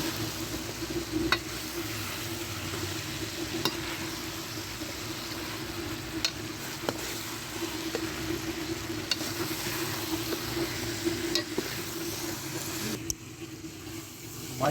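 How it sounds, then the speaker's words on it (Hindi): Potatoes frying with chicken keema in a pan give a steady close sizzle with scraping stirs and occasional clinks of a spoon against the pan, running continuously without talk. "आलूओं को भी हमने अच्छी तरह से भून लिया है"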